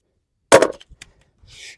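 A Sig P320 pistol with a modified sear is dropped grip-first in a drop test, giving one sharp, close metallic clack followed by a few small rattling bounces, then near silence.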